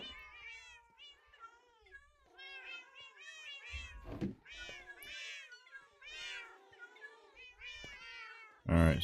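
A kitten in the Minecraft video game meows over and over in quick, high, soft cries, with a brief thunk partway through and a louder knock at the end.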